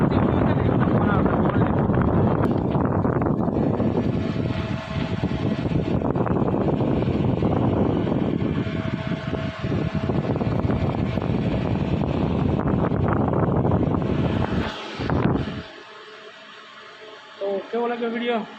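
A newly unboxed air cooler, ordered online, blowing in a village house: a continuous loud fan whoosh that cuts off abruptly near the end, leaving a few soft knocks.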